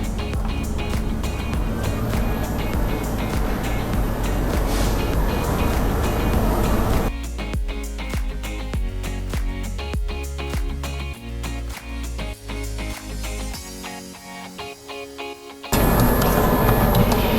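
Electric mixer stirring Chinese bun (pao) dough tinted with strawberry deep glaze at low speed, a steady loud mechanical whir with rhythmic knocking that shifts character partway through, running without any talk.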